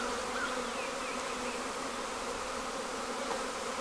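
Honey bees buzz around a hive in a steady, even drone. The sound is moderately quiet and continuous, with no talk over it.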